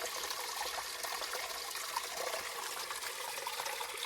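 Water trickling at a small desert oasis with cottonwood trees in the Grand Canyon: a soft, steady babble and splash, continuous and fairly faint, with no voices.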